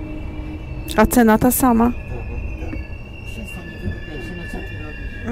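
An Intercity passenger train in Poland running on rails: a steady rumble and hiss of wheels with thin squeals from the track, heard from inside the carriage while a person talks briefly over it.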